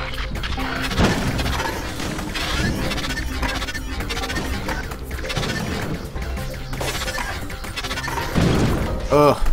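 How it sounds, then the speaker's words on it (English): Explosions and shattering debris in the video game MegaSphere, a dense, continuous run of crashing, smashing impacts and bursts with busy game sound, loud throughout and heaviest near the end. "Oh, explosions."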